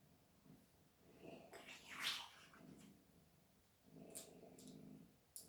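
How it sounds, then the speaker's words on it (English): A pet cat purrs loudly and close by in a series of rumbling waves, with a brief sharp sniff or snort partway through during a quiet late-night moment indoors. "He's very loud when he purrs"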